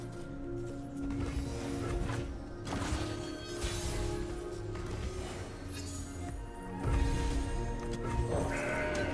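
A goat card in Legends of Runeterra lets out wavering bleats over the game's background music, moderately loud and repeated across the stretch.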